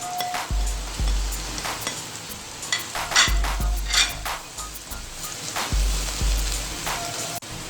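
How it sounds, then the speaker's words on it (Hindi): Chopped vegetables and finely shredded cabbage fry lightly in a pan for a vegetable omelette. A steady sizzle is broken by repeated scrapes and knocks of stirring. "लाइट सा हम इनको फ्राई करेंगे और इसी दौरान हम बंद गोभी बारीक कटी हुई अंदर ऐड कर देंगे"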